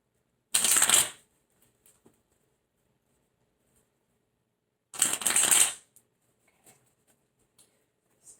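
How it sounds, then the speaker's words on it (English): Tarot cards are shuffled in two quick, crisp riffling bursts several seconds apart, close and clear, with near silence and a few faint taps between. "I do shuffle my cards before I start this, but I also shuffle before I ask questions or get clarification"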